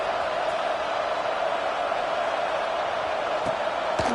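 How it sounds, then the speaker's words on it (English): A steady, even crowd murmur fills the stands at an American football game after a score, a continuous broadband buzz with no distinct voices standing out. "this crowd is buzzing after that last score"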